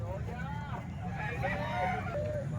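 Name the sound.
gamecock (stag) rooster crowing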